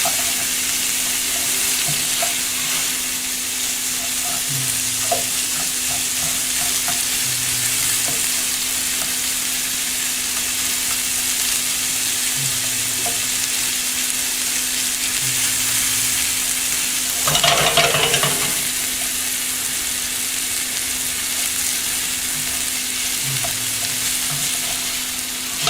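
Peppers frying in a pan as they soften, a constant loud sizzle with periodic soft stirring scrapes and a brief louder burst of hissing midway, no talk.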